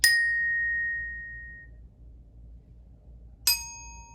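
A bell struck with a mallet gives a bright ring that is cut short by fingers damping it, then a second clear strike rings out after a pause.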